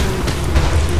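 Acid rain falling in the strategy game Hell's Reach, a dense, steady hiss of rain with a low rumble beneath, loud and continuous throughout.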